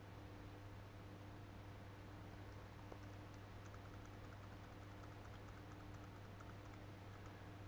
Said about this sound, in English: Type in my credit card